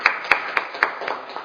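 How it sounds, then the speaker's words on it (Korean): A small audience at a Korean panel forum on a journalist source-protection law claps sparsely, about half a dozen distinct handclaps spaced unevenly, fairly close, with no speech over them. "큰 박수 좀 부탁드립니다."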